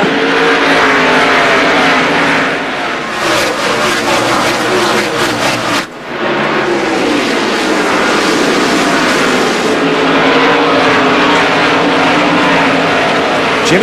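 NASCAR Winston Cup stock cars race at Richmond International Raceway during the Chevrolet Monte Carlo 400, producing a loud, continuous engine roar that swells as the pack passes, with a commentator's voice faintly over it.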